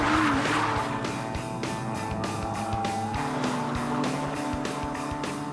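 A BMW 130i revs hard on a damp track as its rear tyres spin, a strong engine note with a rising whine and sustained squealing, close and continuous for several seconds.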